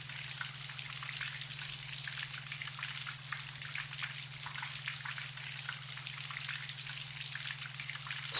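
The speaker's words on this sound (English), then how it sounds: "Let the rain carry your thoughts." Steady rain falls continuously, a dense, even patter with no voices and a faint low hum underneath.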